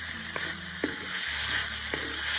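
Dried bombil fish and an onion-coconut paste sauté on a stove with a steady frying sizzle, and a few soft clicks of the spoon rise above it. No one talks.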